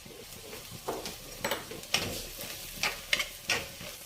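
A spoon stirs raisins into a sizzling chiles en nogada filling in a pan, the scraping strokes repeating every half second or so over a steady low frying hiss, close and moderately loud.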